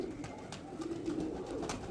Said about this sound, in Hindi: और ये कबूतर है